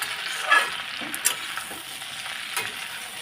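Potato and tomato curry frying in a wok while being stirred, a steady close sizzle with a few scraping clatters of the spoon against the pan.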